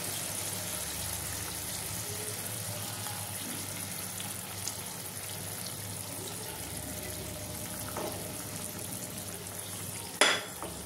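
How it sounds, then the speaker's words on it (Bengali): Hilsa fish pieces frying in a pan of spiced masala, a steady soft sizzle throughout with a sharper clatter near the end. "এবার আমি মাছগুলো ছেড়ে দেবো"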